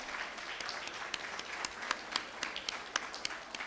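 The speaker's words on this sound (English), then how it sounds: "I should listen to a big round of applause for our panelist members." An audience at a panel event on visual challenges applauds the panelists with steady, scattered clapping. The claps sound fairly near and crisp, with distinct individual hand claps over a soft wash.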